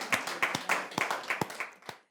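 A small audience at a talk on girls' schools and women's empowerment claps briefly, a dozen or so close, distinct hand claps in a loose, uneven rhythm that fade out after two seconds.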